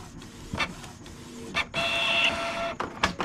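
A Canon G2010 inkjet printer runs a deep cleaning cycle, with bursts of mechanical whirring and clicking from its motors and a sustained higher whine in the middle, close and fairly quiet with pauses between movements.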